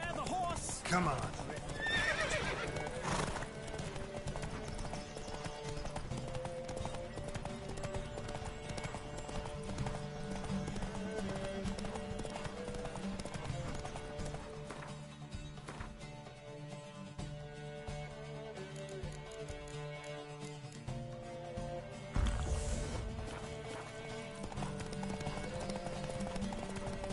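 Horses gallop in a race in The Witcher 3, with rapid clip-clop hoofbeats, loud neighs and whinnies, and a game music score underneath; voices speak over the action.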